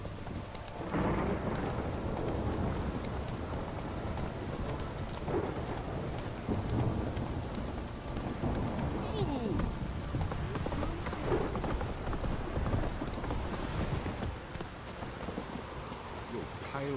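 Steady, dense rainfall in The Witcher 3, a continuous broad wash of patter with low rumbling underneath, loud and unbroken for the whole stretch.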